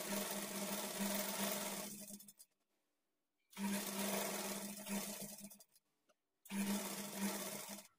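A sewing machine runs in three steady bursts, roughly two seconds each, with short silent pauses between them, stitching a quarter-inch folded edge on a lined blouse; the whirring is close and even, with no voices.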